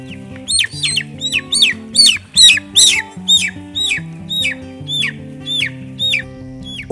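Chickens cluck steadily at a poultry farm, a run of repeated sharp calls falling in a loose rhythm over a constant low mechanical hum, close and fairly loud with no talking.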